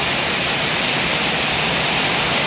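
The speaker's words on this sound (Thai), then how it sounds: "ดูรองน้ำน้ำไหลขนาดนี้ครับ" Heavy rainwater gushing down a gutter during a sudden downpour, a steady, loud broadband rush of falling and splashing water with no break, close and continuous.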